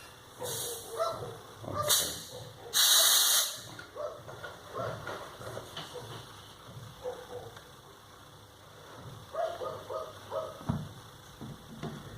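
Air hisses in two short, sharp bursts as a DNM USD-8 mountain bike fork valve is pressurized, followed by quieter handling noises and faint background sounds.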